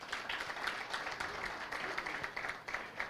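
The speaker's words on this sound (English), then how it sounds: "Let's give him a round of applause." An audience applauds a keynote speaker at an anniversary lecture on tax reform, a steady wash of many hands clapping at moderate distance, sustained without pause and fairly quiet.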